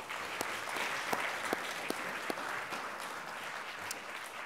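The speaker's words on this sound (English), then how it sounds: "Let's have another round of applause for our keynote." Applause from an audience at an academic symposium after a keynote address, steady dense clapping with no pauses and some sharper individual claps standing out near the front.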